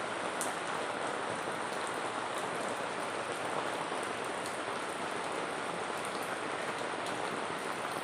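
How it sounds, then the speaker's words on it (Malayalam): Heavy rain falling outside, a steady dense patter of drops on surfaces, moderately faint and unbroken, with no voices. "അപ്പോൾ അതാ പുറത്ത് നല്ല മഴയാണ് കേട്ടോ."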